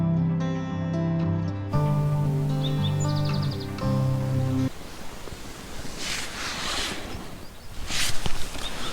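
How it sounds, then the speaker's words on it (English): Faint bird chirps scattered over a steady low rumble and washing ambient noise, with a brief musical passage at the start. "Just been listening to the birds for a while."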